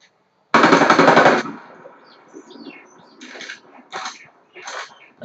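A loud, close burst of automatic gunfire in Ghost Recon Wildlands cuts off abruptly, followed by faint scattered shots and ambient bird chirps.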